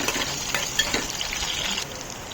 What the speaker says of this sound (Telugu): ఆనియన్స్ కూడా వేసి బాగా వేయించుకోవాలండి.